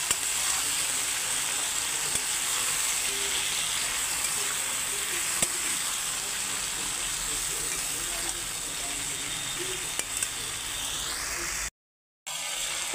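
Potatoes with flat beans and eggplant fry in a pan, giving a steady, loud sizzling hiss throughout with faint stirring clicks, then a short silent gap near the end.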